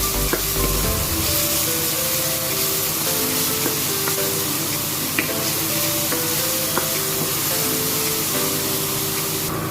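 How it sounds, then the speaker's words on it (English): Ginger garlic paste drops into hot oil and sizzles loudly, a dense continuous frying hiss with occasional stirring scrapes close by, alone without talking, for a chicken biryani. "So once our oil is hot enough, let's add our ginger garlic paste here."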